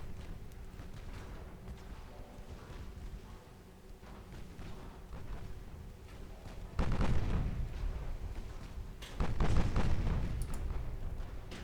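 Battleship guns in Ultimate Admiral: Dreadnoughts firing high-explosive lyddite shells, two heavy booming salvos over a low rumbling battle background, fairly loud and close.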